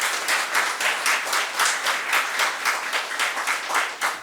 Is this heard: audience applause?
yes